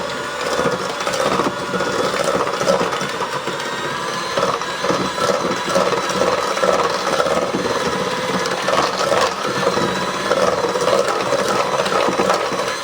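An electric mixer beats strawberry cheesecake batter until creamy, a steady whirring drone that runs unbroken and close for the whole stretch, with no talking over it.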